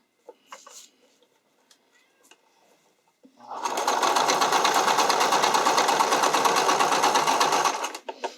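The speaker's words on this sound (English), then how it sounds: "this is the point where my sewing machine starts throwing fits" A home sewing machine runs steadily for about four seconds while stitching the seam of a strappy underwire bikini top, a dense continuous whir following a few soft handling clicks.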